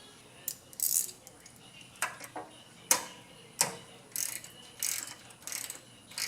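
Metal parts of a gummed-up small engine carburetor click and clank as its float bowl is taken off, a string of sharp, close taps and ratcheting ticks in irregular rhythm.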